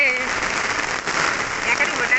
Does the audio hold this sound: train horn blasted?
no